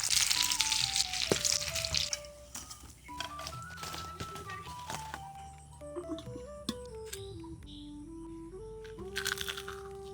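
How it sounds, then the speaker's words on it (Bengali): Rolls of flour dough stuffed with potato, frying in oil with a soft crackling sizzle, louder at first and then quieter, alongside tonal beeps and clicks in the background. "এবার বাকিগুলোও ভেজে নিচ্ছি।"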